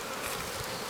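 Honey bees around a nuc hive make a dense, continuous buzz, close and even across the whole brief moment.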